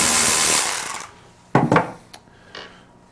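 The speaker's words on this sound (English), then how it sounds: "now we're going to remove our last 10mm screw" A 10mm screw is worked loose from the water pump of a Mercury two-stroke outboard with a power tool: a sustained whir that stops, then a few sharp metallic clinks and taps nearby.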